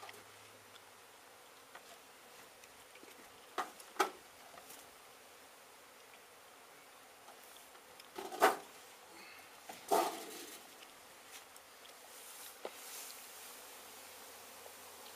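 Bees from a hive beneath a travel trailer buzz softly and continuously outdoors, with a few brief louder knocks and rustles breaking through the faint hum.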